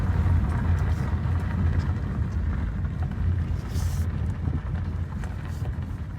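A cheap ten-dollar car drives in second gear at around 25, its engine giving a steady, close low rumbling drone with no talk over it.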